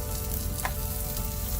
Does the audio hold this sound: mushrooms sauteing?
yes